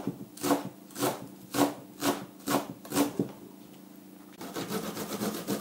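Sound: garlic cloves grated on a fine grater

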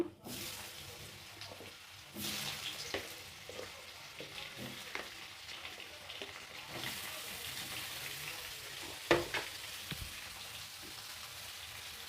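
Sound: jackfruit frying in oil in a wok

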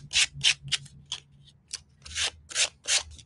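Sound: sanding edges with sandpaper

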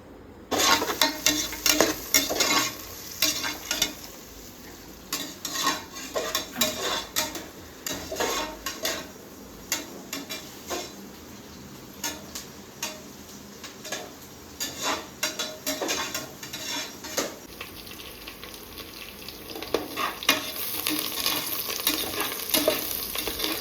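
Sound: frying onion, tomato and chilli in oil in pressure cooker

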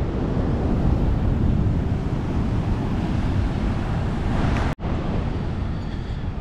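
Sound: rough sea waves

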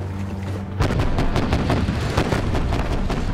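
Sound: artillery fire in animated short film

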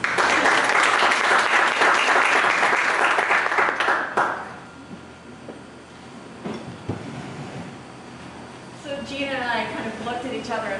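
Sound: breakfast club audience applause

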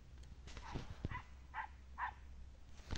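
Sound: hunting dog barking at cornered quarry

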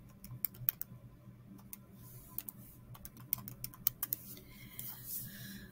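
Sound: typing a calculation on a keyboard

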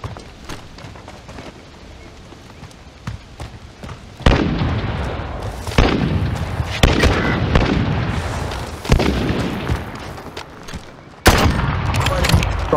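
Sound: gunshots in a sniper gunfight

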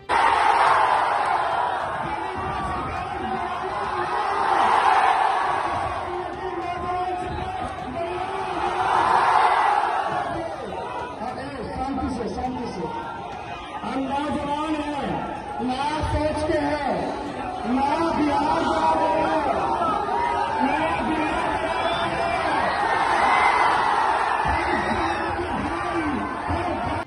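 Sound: large crowd cheering at Tejashwi Yadav election rally

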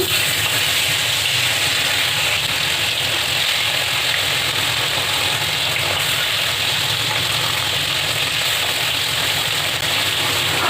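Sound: koi fish frying in hot mustard oil

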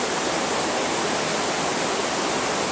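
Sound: washing a gold trap's pieces off in a mountain stream

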